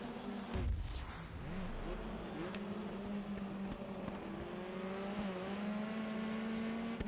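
Race cars in the Grid Autosport video game on Nintendo Switch, a steady droning engine whine held at moderate level with slight pitch shifts throughout.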